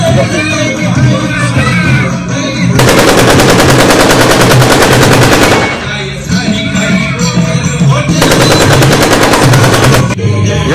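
Loud, dense bursts of rapid gunfire during a village Holi celebration, coming as two long rattling volleys split by gaps where crowd noise and voices come through.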